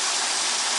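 Water rushes steadily over an aluminum gold sluice, washing dirt and light material down its carpeted bed. The flow is a brief, continuous, close wash.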